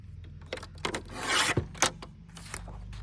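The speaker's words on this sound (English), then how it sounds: "Let me trim the edge." An old book page being trimmed at the edge, heard as close, short rasping and rubbing strokes of a blade on paper, irregular and quiet, with a slightly longer scraping pass midway and no talk.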